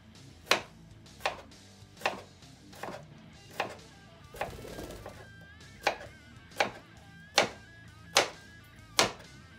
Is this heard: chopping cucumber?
yes